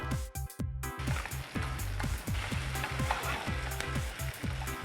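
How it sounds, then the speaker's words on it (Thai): Diced potatoes and sliced onion sizzle in butter in a hot pan, giving a crackling frying hiss with regular thumping knocks of stirring, close and steady throughout. "ผัดมันฝรั่งนะครับกับหอมใหญ่ ให้สุกนะครับ"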